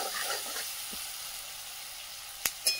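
Onions frying with salt in a pan on a clay stove, a continuous soft sizzle with a few faint stirring sounds, ending with two sharp clacks of a utensil against the pan.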